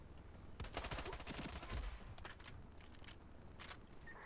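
Gunfire in the shooter Ironsight, a dense cluster of rapid shots early on, then scattered single cracks and bursts, fairly faint against the game's ambient noise.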